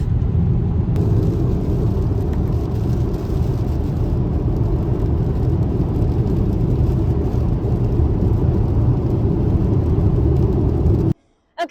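A Volvo electric car cruises on a snowy highway, giving a steady, loud rumble of tyres and wind noise that holds constant for several seconds before cutting off abruptly near the end.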